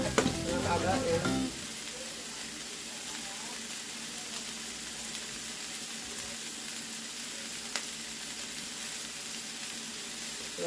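Vegetables stir-fried in a pan give off a constant loud sizzle, with a burst of clanking stirring at the start and then an even hiss.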